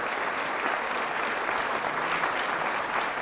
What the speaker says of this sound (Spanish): Fuertes aplausos a Jesús de Nazaret por su amor y su misericordia